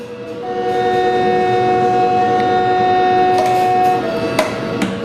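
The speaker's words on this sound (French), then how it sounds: "Je franchis cette gare sans arrêt et je constate la présence des voyageurs. Je dois siffler." A Moroccan TGV high-speed train sounds a long, steady horn while passing through a station without stopping, the sustained tone held for several seconds over a constant rumble of the moving train.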